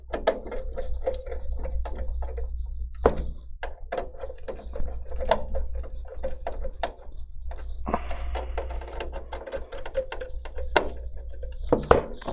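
Close, steady clicking and ratcheting of screws being tightened to seat a CPU cooler on a GIGABYTE H610M motherboard, sharp ticks repeating irregularly over a low hum, with no talking.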